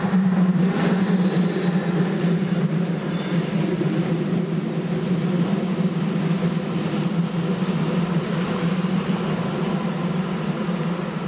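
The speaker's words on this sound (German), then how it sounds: "Jetzt kommt Zug und dann öffnet sich's vielleicht schon." A train rolls past a railway level crossing in Bochum, making a loud, steady rumble of wagons with a constant low drone and faint wheel squeal, heard alone for about eleven seconds.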